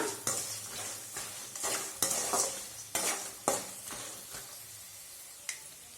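Turmeric being stirred into a peanut mixture frying in a pan, a soft sizzle under a series of crisp spoon scrapes and taps against the pan at uneven intervals, close and fairly quiet, no talking.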